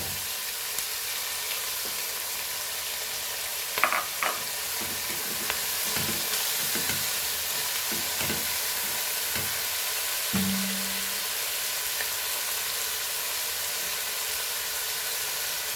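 Tomato frying in a pan for Goan tiger prawns and brinjal xec xec, a steady close sizzle and hiss with scattered stirring clicks and scrapes, no talk.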